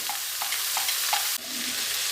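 Pui shak vegetables fry with garlic and turmeric in a pan for a chhechra, giving a steady close sizzle broken by a few rhythmic scrapes of stirring.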